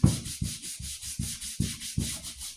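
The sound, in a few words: nail brush scrubbing dirt off a leather boot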